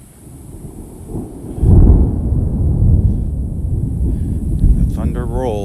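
Thunder rolling over a beach in North Naples, Florida during a morning storm: a deep, low rumble swells and lingers under gusty wind noise, with a voice briefly near the end.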